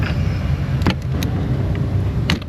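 A Kia Soul in an auto repair shop idles steadily nearby, its engine a continuous low rumble through the whole stretch, with a few brief clicks and knocks from the shop layered on top.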